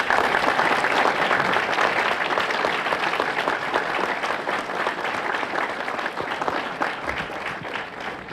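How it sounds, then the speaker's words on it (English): An audience at a scholar breakfast applauds student athletes from Federal Way and Auburn: dense, steady clapping from a large crowd fills the whole stretch and eases off only slightly toward the end. "please stand and let's give them a round of applause"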